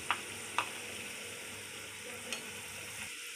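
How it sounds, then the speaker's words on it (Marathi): Veg momos fry in hot oil, giving a steady, close sizzle with a few sharp pops and stirring clicks and no one speaking. "तेल गरम झालेलं आहे, आपण त्याच्यामध्ये मोमोज सोडूया."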